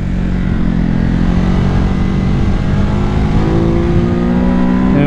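A Ducati Hypermotard 950 motorcycle engine drones loud and close through a chicane, its steady tone shifting in pitch as the rider drops down a couple of gears, with wind rush throughout.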